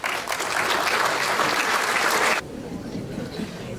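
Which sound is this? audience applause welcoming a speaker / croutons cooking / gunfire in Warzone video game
audience applause welcoming a speaker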